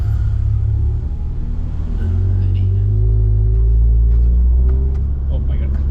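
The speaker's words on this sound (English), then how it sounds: "enjoy this rocket lap with a Golf 7 ClubSport and some proper ride mods." VW Golf 7 GTI ClubSport with ride modifications on a fast Nürburgring lap: loud in-car engine rumble rising and holding as it accelerates, with road and wind noise and people talking over it.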